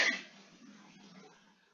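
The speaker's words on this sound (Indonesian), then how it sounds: "jangan batuk" A single sharp cough bursts out at the start and then trails off into quiet room noise, heard over a thin, band-limited line.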